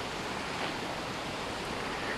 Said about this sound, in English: You see the water is going through the riverbed.